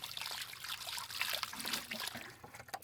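Water trickles and splashes as a container is filled until overflowing beside a bluegill pond outdoors, a steady bright dribbling stream, close and continuous.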